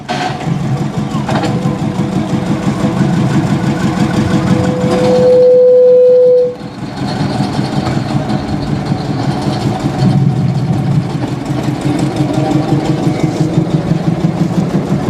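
Old narrow gauge locomotive engine running at a museum rail gala, a steady mid-distance chugging rumble with a brief sustained whistle-like tone partway through and background crowd noise.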